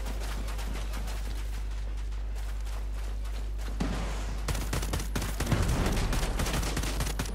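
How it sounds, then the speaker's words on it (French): Machine gun fire in Ghost Recon Breakpoint starts midway as dense, rapid bursts of rattling shots over a steady low hum, growing louder toward the end. "attention mitrailleuse"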